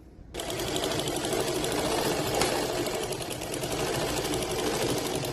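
A sewing machine stitches lace onto a suit, starting abruptly after a short pause and then running as a steady, fast mechanical whirring hum with a rapid needle clatter, close and continuous, with no talking.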